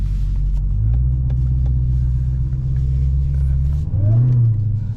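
Supercharged Dodge Hellcat muscle car driving, a loud steady low engine drone with a rising whine near the end, close and continuous without talk.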